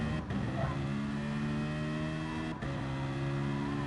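Race cars, a Porsche and a Citroen, roar around the Interlargos circuit in a racing game, engines holding a steady high whine at full speed with a couple of brief gear-change dips, loud and close, with no one speaking.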